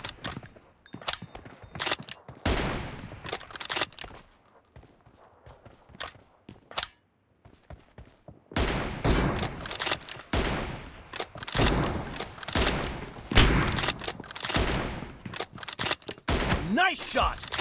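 Sniper rifle shots, an M24, in a one-on-one sniping match inside a video game: sharp, loud cracks fired in irregular bursts, with a quieter pause midway before the shooting resumes densely.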